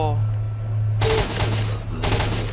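Gunfire in S.T.A.L.K.E.R. Shadow of Chornobyl Enhanced Edition, a burst of rapid shots crackling close and loud over a low steady hum, then a second volley near the end.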